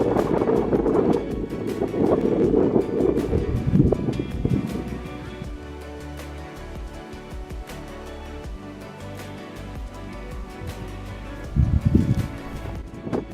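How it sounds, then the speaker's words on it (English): Gusty wind buffets a microphone on Turrana Bluff, a mountain bluff above the Little Fisher River, rumbling loudly in waves with a calmer stretch in the middle and a strong gust near the end. "Of course it's gone windy"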